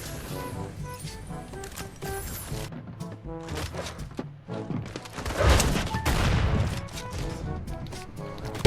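Fortnite gunfire in a burst of rapid booming shots and impacts over game music and effects, loud and close, with a dense cluster of blasts in the middle.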